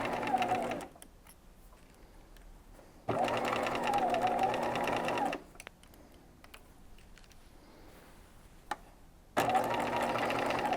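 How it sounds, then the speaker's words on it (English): A sewing machine stitches around the underarm of a peignoir with orange thread, running in three clear bursts of steady rapid whirring separated by quiet pauses, close and fairly loud. "I'm just continuing to stitch all the way around the underarm."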